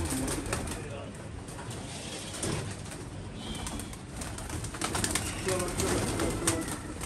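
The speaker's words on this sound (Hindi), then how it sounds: "ये ज़रा कबूतर हम जाल में चढ़वा रहे हैं" Pigeons coo softly amid a busy outdoor wash of noise while being put into a net, with occasional wing flutters and distant voices in the background.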